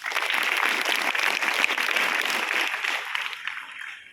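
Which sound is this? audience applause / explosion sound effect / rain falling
audience applause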